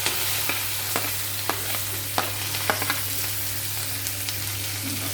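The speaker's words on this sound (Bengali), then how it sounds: "তেলের মধ্যে পেঁয়াজ নাড়াচাড়া করে নেব।" Chopped onions sizzle steadily in hot oil for a chilli chicken, with a spoon scraping and stirring in sharp, regular clicks over a constant frying hiss.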